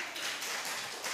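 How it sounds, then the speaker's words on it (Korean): A church congregation applauding, a dense, even patter of many hands clapping together throughout a short stretch. "여러분 박수 한번 쳐주십시오"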